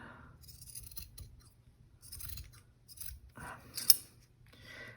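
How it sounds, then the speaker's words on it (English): Snipping of an old pair of fabric scissors cutting paper or material, several separate close cuts with short pauses between them, heard alone without talk. "These are my fabric scissors that were my mother's."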